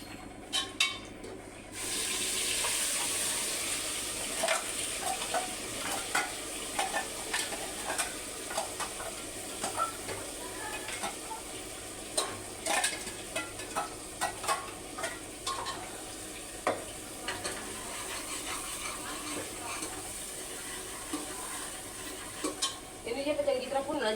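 Ground spice masala stirred and roasted in a pan with cumin, a steady sizzle under repeated scraping and clinking of a spoon against the pan, close and fairly loud throughout.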